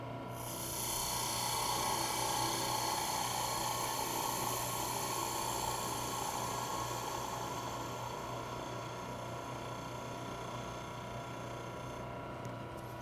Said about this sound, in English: Now I'll use my skew chisel to square the end.